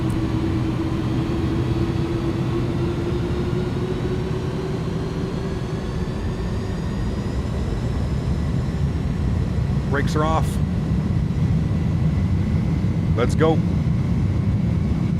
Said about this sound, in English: Takeoff power is set. Full toga.